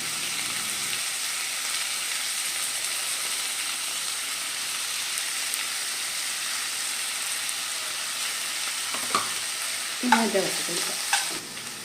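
Bitter gourd fries in a pan with a constant soft sizzle, then a spoon scrapes and stirs it in a few close, louder strokes near the end.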